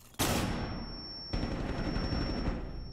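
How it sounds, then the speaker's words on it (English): A flashbang grenade in Rainbow Six Siege goes off with a sudden loud burst, then a second blast follows, leaving a steady high-pitched ringing tone over dense rumbling noise. "Flashbang away."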